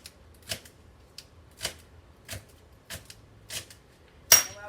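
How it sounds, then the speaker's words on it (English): A knife chopping celery on a cutting board for cornbread dressing, six or seven crisp, evenly spaced taps about half a second apart in a quiet kitchen, ending with a sharper clatter. "so I'm going to put more celery. Anyway, we're just going to cut it up pretty small"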